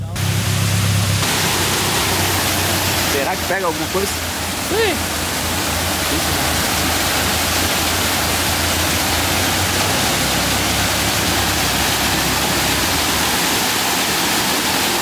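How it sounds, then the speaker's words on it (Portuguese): A waterfall roars as a broad, steady rush of water, loud and close, while a few people talk briefly over it. "cachoeira da hora"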